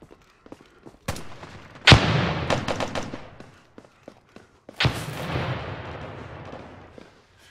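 Sharp, booming rifle shots in a team deathmatch on the SpringStreet map of the online shooter America's Army, a few isolated single cracks, then two loud reports each trailing off into a long echoing tail.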